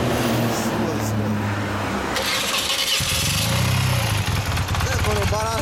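A 1990 BMW R100R DOKEN Special Version I Classic motorcycle with a REMUS exhaust runs loud and close in a continuous throbbing burble. Its tone shifts partway through as the engine note changes.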